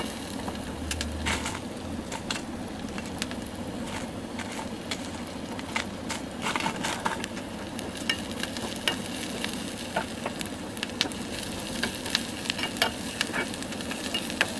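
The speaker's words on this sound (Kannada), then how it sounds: "ಈರುಳ್ಳಿ ಚೆನ್ನಾಗಿ ಕೆಂಪುಗಾಗಬೇಕು." Onions fry steadily in a pan over a low flame, a continuous soft sizzle with occasional stirring scrapes and small crackles, close and even throughout with no talking.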